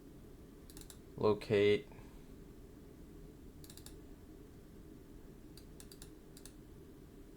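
A few sparse, quiet keystrokes tap on a computer keyboard, spaced seconds apart over a low steady room hum, with a brief spoken word near the start.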